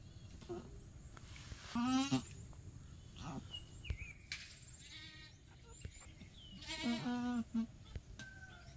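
Goat in labor inside its pen, bleating in two strained, wavering bursts that stand out over a steady hum of insects and farmyard ambience.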